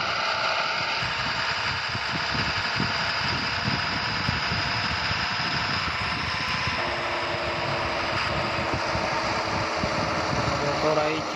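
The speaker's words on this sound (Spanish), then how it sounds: "Motor ahí, chicos. Hay un motor original, chicos, motor original del costeláneo" A Volvo Constellation truck engine idling in World Truck Driving Simulator, a steady, even drone with a faint hum that holds throughout, under a man's speech.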